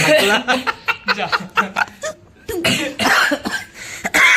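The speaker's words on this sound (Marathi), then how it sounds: "अरे यार मलाच खोकला आला" A person coughs repeatedly in rough, harsh bursts at close range, with a short pause before a second fit of coughing.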